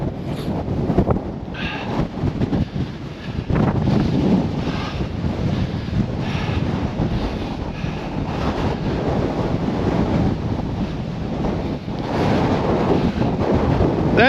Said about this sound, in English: it might be a bit windy, you might not be able to hear me